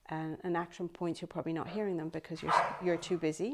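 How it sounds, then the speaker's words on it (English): Two dogs play noisily with their toys, their barks and yips mixing with a person who talks steadily over them. "My 2 dogs are playing."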